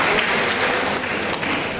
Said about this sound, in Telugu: గట్టిగా చప్పట్లు కొట్టి గట్టిగా దేవుని మహిమ పరుద్దాం.